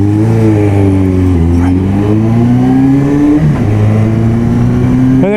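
A Kawasaki Z650 motorcycle pulls away with a slight misfire, its loud close engine note rising in pitch, dipping with a stumble partway through and then climbing again.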